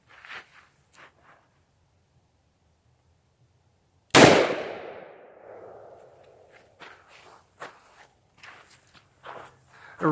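A single .44 Magnum shot with heavy solid bear loads fired into drywall from about five yards: one sharp loud blast with a ringing decay, then faint shuffling and handling sounds.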